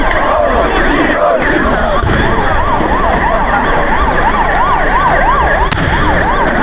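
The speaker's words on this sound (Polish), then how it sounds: "Przepuszczamy karetkę, dwie karetki przepuszczamy." Two ambulances sound a wailing siren, rising and falling steadily, moving through a dense Independence March crowd, with constant crowd noise and some shouting underneath.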